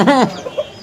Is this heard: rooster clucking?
yes